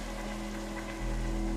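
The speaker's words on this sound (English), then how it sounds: "oh, it's raining" Rain falls steadily in a video game as a dense, even hiss of drops on surfaces, close and continuous with no talking.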